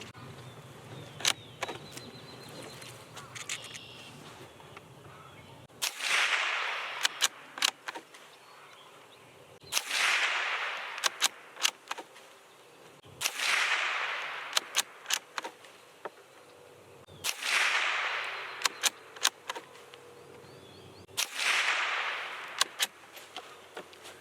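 Five suppressed shots from a Savage B22 FVSR .22 rifle firing CCI Mini-Mag 36-grain rounds, each a sharp crack followed by a sustained hiss, spaced about four seconds apart with faint clicks between.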